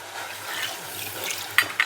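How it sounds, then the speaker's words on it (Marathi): Water is poured into kheer simmering in a pot, a steady soft splashing hiss close by, ending with two light clinks of a utensil against the pot. "आता वरून पाणी टाकायचं आपल्याला."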